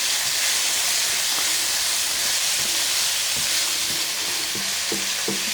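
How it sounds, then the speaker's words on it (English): Red pepper flakes and oregano sauté in a pot, giving a steady, loud frying sizzle and hiss throughout, with a few soft stirring scrapes near the end. "I'm going to stir this up and let this saute for about 1 minute also"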